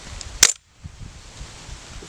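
An airsoft gun fires a single 0.36 gram BB through a chronograph, giving one sharp, loud crack. A quiet stretch follows, then low, soft handling noise.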